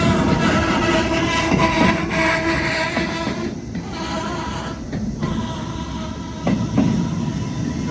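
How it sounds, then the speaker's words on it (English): A long Norfolk Southern freight train carrying storage cars rolls past on a superelevated curve on a steep grade, a loud continuous rumble and clatter of cars with brief dips as gaps go by. "This is a long train."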